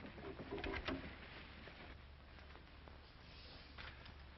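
Soft pigeon cooing in a quiet indoor space, a few low murmuring coos early on over a steady faint background hum.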